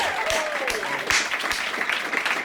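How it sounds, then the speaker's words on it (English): Clapping from a small audience at a concert performance, a steady patter of applause heard at moderate volume with a voice and faint whoops over it. "Clapping here like they can hear it."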